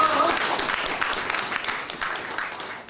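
An audience applauds at a book concert for a novel about the revolutionary Kim Won-bong, with dense, fairly loud clapping that tapers slightly toward the end and no speech.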